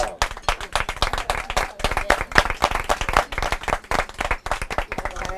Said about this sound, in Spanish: Un aplauso para el anfitrión